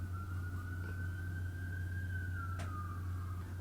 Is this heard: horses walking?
no